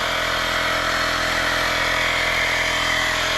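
A Seesii 3-in-1 multifunctional tool's tire inflator pumps a tire up, a steady, loud, buzzing motor drone that runs unbroken and close throughout.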